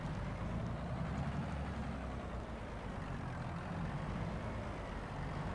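Tractor engine in the Farming Simulator 22 video game, a steady low rumbling drone that holds constant and fairly quiet throughout with no talk.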